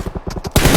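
Gunfire in the mobile battle-royale game PUBG Mobile comes as a quick, loud, close-sounding burst of rapid shots, then a heavier, sustained crash of fire.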